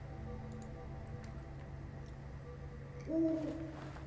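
Owl in a video game, a single short hoot near the end, clear over a steady low hum and faint ticking background.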